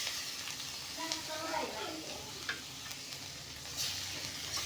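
Sliced onions stirred and fried in a kadai, a quiet sizzle with scraping spoon strokes and light ticks, a voice talking over part of it.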